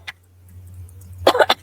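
A single short, throaty cough near the end, preceded by a faint click and a low steady hum in an otherwise quiet room.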